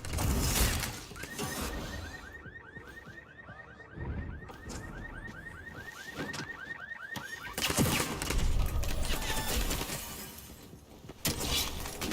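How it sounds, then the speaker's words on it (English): Gunfire in the vampire battle royale game Bloodhunt, with rapid bursts and impacts mixed with a rising and falling alarm-like whine and loud crashing noise. "That guy's shooting at me."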